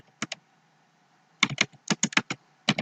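Computer keyboard keys are tapped to enter a spreadsheet formula, starting with two quick isolated clicks, then a pause, then a close, brisk run of keystrokes with short gaps between them.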